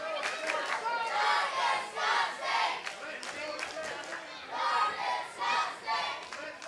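A capacity crowd in a wrestling arena roars and cheers for the champion in surging waves, loud and distant-sounding, with rising and falling shouts across the hall.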